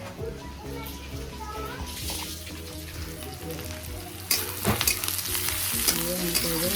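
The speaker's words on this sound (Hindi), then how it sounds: "प्याज फ्राई" Onions fry in a pan with a steady, close sizzle that runs under voices talking nearby, with a sharper burst of crackling partway through.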